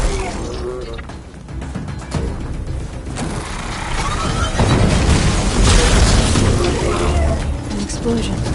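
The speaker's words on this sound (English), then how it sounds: "Explosion." A loud rumbling explosion in the video game Horizon, a dense booming blast that swells and holds for several seconds amid crashing, mechanical clatter.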